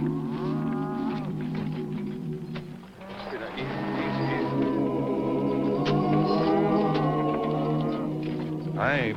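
Farm cattle low in long drawn-out calls, several overlapping near and far, while horses and a wagon with jingling tug chains approach at feeding time; a person talks over the herd throughout.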